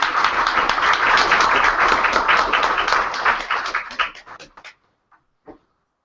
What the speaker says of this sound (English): So please give a round of applause to Wayne Losey